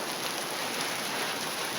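Rain falling steadily outdoors, a dense even hiss of drops close by, brief and unbroken with no voices.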